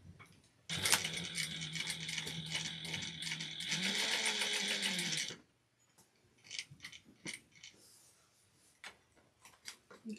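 A sewing machine stitches stocking pieces together with a rapid, steady mechanical whir for about five seconds, close and loud, followed by scattered quieter clicks and handling noises.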